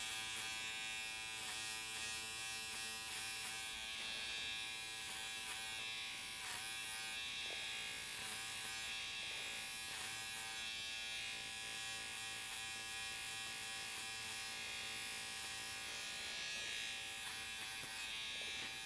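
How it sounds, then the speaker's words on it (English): Electric hair clipper buzzing steadily while cutting straight hair over a comb, a close, continuous hum with small snips and shifts in tone throughout, no talking. "So the thing about this clipper over comb, especially on this hair type, is you have, a little more control over this"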